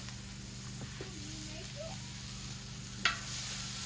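Bacon, three cloves of garlic and half a red onion fry in a pan over high heat, giving a soft, steady sizzle with one sharp clink near the end.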